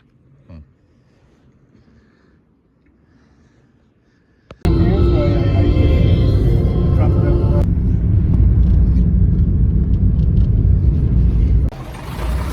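A car on a hitched ride from Wicklow rumbles loudly from inside the cabin, a steady engine and road drone that starts abruptly after a quieter stretch with a few faint sounds.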